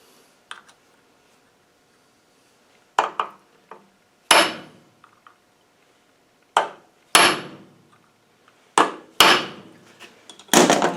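A hammer drives a punch to stake over a nut on an LT77 gearbox during a rebuild, giving sharp metallic blows heard close and loud, alone at first and then in quicker clusters of two or three strikes.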